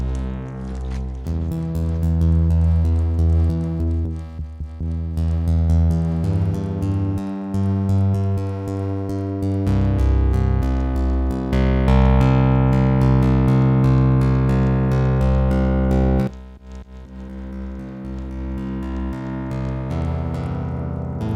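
A synth patch run through Ableton Live's pipe resonator rings out as sustained, harmonically rich tones with shifting chords and notes, loud and continuous with a brief dip near the end.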